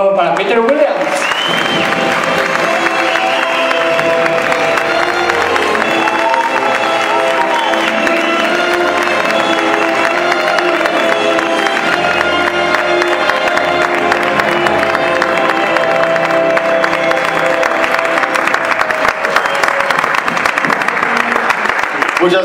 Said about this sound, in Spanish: un fuerte aplauso, por favor, para Peter Williams